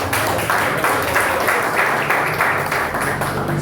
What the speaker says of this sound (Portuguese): faz palmas para o Senhor Jesus Cristo